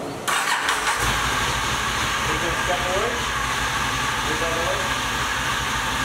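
A Can-Am Outlander 1000 XMR ATV engine starts up and then runs at a steady, loud, close rumble that continues without a break.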